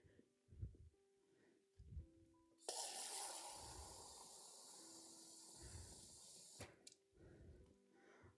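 Water poured from a red solo cup into a potted plant indoors, a steady splashing pour of several seconds between quieter knocks and handling sounds.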